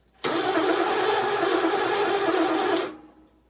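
A 1995 Ford F350 engine cranks on the starter to prime oil, a close, loud, steady whirring churn lasting under three seconds, starting abruptly and cutting off without catching.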